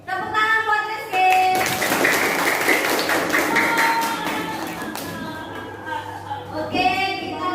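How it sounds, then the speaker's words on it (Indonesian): Fourth-grade classroom of children clapping in applause for a classmate, a burst of rapid claps lasting several seconds, with a teacher's voice before and after. "Tepuk tangan buat Rizky."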